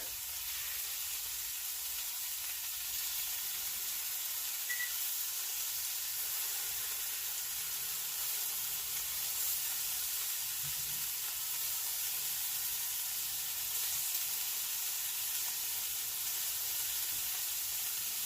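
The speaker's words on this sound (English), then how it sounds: "Scallops go in first. I like to line them around the edge of the pan so they get a nice even cook." Scallops sear in a sprayed pan, a faint, continuous sizzle and hiss steady throughout with no talk.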